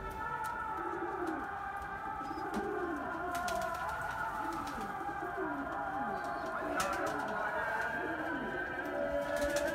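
Pigeons in a coop of about twenty birds coo in repeated low, rhythmic rolling calls, fairly close and continuous, mixed with sporadic clicks and taps; a voice talks at times.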